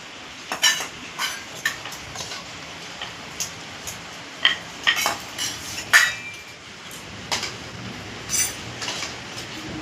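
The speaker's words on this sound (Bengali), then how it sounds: "এই প্রত্যেকটা বাটিতে একটা করে চামচ রাখ।" Metal spoons are set into serving bowls one after another, giving a string of sharp, irregular clinks and clatters close by against a quiet room.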